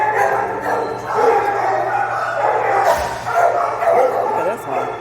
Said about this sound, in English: They're so loud. Yeah, this is why I don't like them kind of dogs.